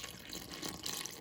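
A cup of warm water pours into flour and salt for pita bread dough, a short, steady splashing rush that stays fairly quiet with no talking.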